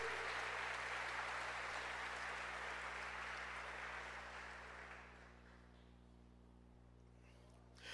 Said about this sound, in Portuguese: dê um aplauso bem forte a esse Deus maravilhoso